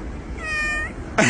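A pet cat gives a single drawn-out meow, close and fairly clear, with a brief louder rustle or bump right after it and no talking.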